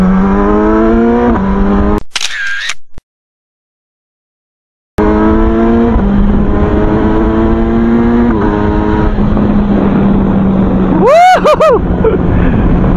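A Kawasaki Versys 1000 motorcycle accelerates hard and loud, its engine note climbing through several gears with rising harmonic sweeps, cut by a short silent gap midway, then whistling wind and a final high rev.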